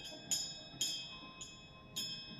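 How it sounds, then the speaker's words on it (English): A bell rings out four times at uneven intervals, each strike bright and ringing with a slowly decaying shimmer, fairly faint against a quiet outdoor background. "even the bell starts to ring."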